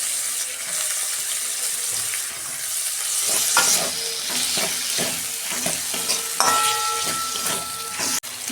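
Grated tomato goes into a sizzling pan where ginger has been frying, then gets stirred: a steady loud sizzle with repeated scraping strokes of a spoon against the pan and a sharp clatter near the end.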